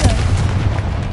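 Confringo blasting spell fired in Hogwarts Legacy inside a tomb, a loud, deep booming blast that rumbles steadily for about a second without talk.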